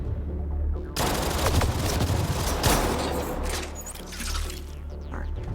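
Gunfire rattles through a Mass Effect Andromeda battle in an alien desert, starting abruptly as dense rapid bursts that stay loud and continuous, then thin out with scattered shots and a faint voice murmuring in the background.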